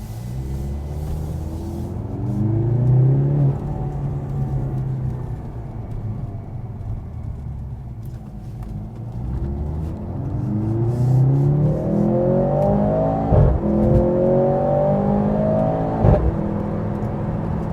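A Mercedes-AMG C43 pulls away and accelerates, its engine rumbling and whirring as it climbs through revs in rising sweeps, loud and close, with a few sharp clicks near the end and no talk.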